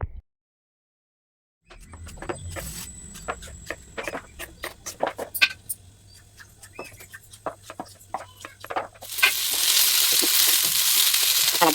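Sliced okra for a Kerala vendakka mezhukkupuratti stir-fry crackles and pops in a hot pan, with scattered clinks and stirring. The sizzle swells into a loud, steady hiss near the end, and no one speaks.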